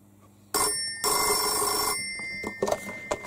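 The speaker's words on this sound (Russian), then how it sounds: "Это ко мне звонят." A telephone bell rings loud and close for an incoming call: two long metallic trills separated by a short gap, followed by clicks and handling noise.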